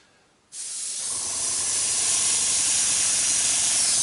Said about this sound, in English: We just want to give it an even spray to take away the tackiness and to fix all of these leaves in place.